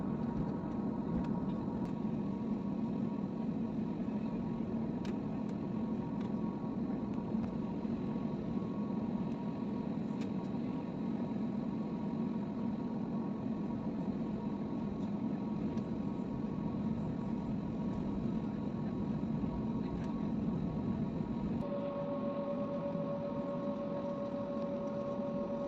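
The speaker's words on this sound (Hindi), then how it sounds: "रनवे पे हमारा जहाज़ सीधा हो चुका है, और बाय बाय लंदन।" Airplane at Luton Airport lined up on the runway before takeoff: a steady, close engine drone with cabin rumble, unbroken for the whole stretch, with a thin tone rising near the end.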